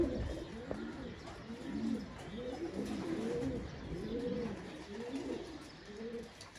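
Pigeons coo softly in repeated rolling phrases, several birds overlapping at a moderate distance, with no talking.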